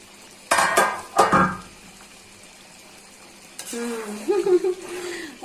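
Spoon scrapes and clatters in a pan of simmering broiler chicken curry with peas, two sharp stirring bursts followed by a quieter bubbling sizzle, with a voice speaking near the end.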